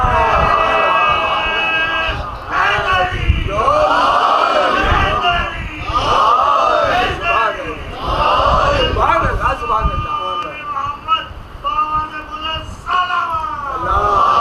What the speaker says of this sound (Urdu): اب یہ نام، اب سب آپ لوگ لیتے ہیں، نعرے بھی لگاتے ہیں، نام بھی علی کا لے۔